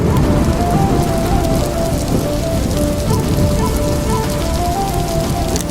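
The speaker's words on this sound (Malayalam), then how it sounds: "ആകാശമേഘങ്ങൾ നിറഞ്ഞു മഴ പെയ്യാൻ ആരംഭിച്ചു" Steady, loud rain falls continuously with a dense hiss of drops striking surfaces.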